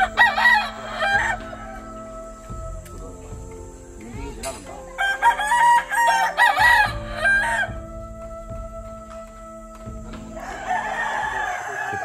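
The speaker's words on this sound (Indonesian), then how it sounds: "Tengok ayam guys, tengok ayam. Ayam sabung." Fighting roosters kept by a cockfighting breeder at a rural house crow repeatedly and cluck. Several loud crows ring out over the span, with clucking between them. Nobody talks.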